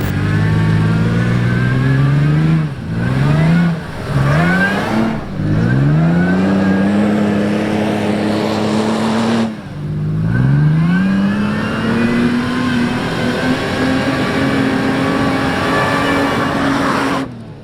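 A supercharged six-speed Toyota FJ Cruiser engine revs hard through several gears, its loud, close pitch climbing repeatedly and dropping at each shift before holding a steady high drone.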